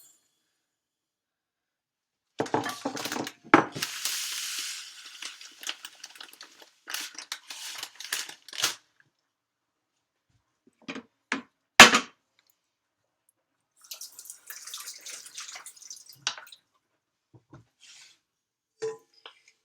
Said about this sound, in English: So I'm pouring the sugar into the pan now